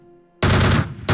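Loud automatic gunfire from a DP-28 light machine gun in the video game PUBG, a dense sustained burst after a short quiet lead-in, then another burst starting at the end.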